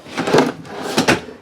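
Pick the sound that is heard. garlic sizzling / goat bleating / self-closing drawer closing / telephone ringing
self-closing drawer closing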